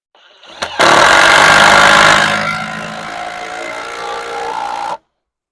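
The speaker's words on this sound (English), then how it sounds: "I'll put the screw gun up here first." A screw gun drives a screw into the wall framing of an off-grid cabin under construction, a loud whirring burst that starts abruptly, holds steady for about a second and a half, then drops to a quieter sustained run before stopping.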